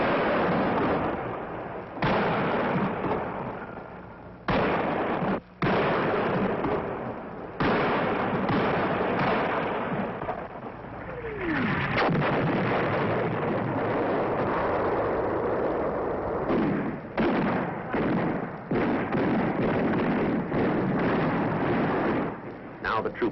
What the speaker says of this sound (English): The command decision is to call for artillery fire support to dislodge them.